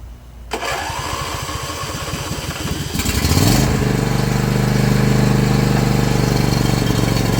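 A John Deere Z335e riding mower with a hard-starting engine cranks with rapid rhythmic chugging for a few seconds, then catches and settles into a loud, steady close-up running drone.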